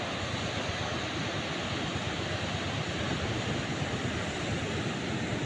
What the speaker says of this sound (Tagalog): Ito ang dagat ngayon.